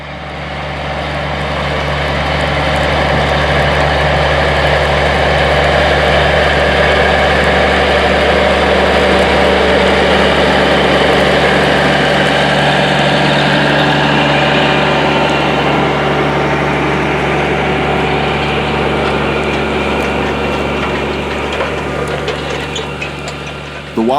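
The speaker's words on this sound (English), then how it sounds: "Unloading on the go with a 215 horsepower, 180 bushel Case IH 2166 Axial-Flow Combine, harvesting corn 6 rows at a time." A 215-horsepower Case IH 2166 Axial-Flow combine harvesting corn six rows at a time, its heavy engine droning steadily and loudly for a long stretch with a constant low rumble and mechanical whir.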